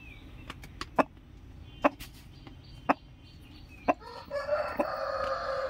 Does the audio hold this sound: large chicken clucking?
yes